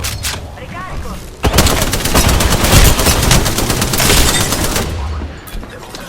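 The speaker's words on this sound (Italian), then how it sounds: "Un buffone mi sta sparando." Sustained automatic gunfire from an Apex Legends firefight rattles loud and close for several seconds, a dense fusillade with a brief lull at the start and no talk over it.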